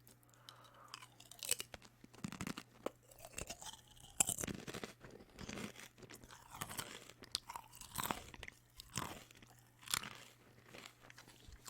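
White cheddar Popcorners chips are crunched and chewed up close, with irregular crisp bites and chewing bursts repeating across the stretch in a quiet room.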